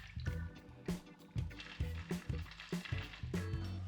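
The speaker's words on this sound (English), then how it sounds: "We're going to pour our cocktail into a cotton glass over ice." Liquid from a Crown Royal blackberry lemonade cocktail is poured over ice into a glass, with a series of clinks, splashes and trickles, close and fairly quiet.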